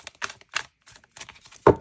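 Tarot cards are shuffled by hand in quick short riffles, producing a few crisp papery snaps and taps spaced unevenly, close and fairly quiet, ending with a firmer slap.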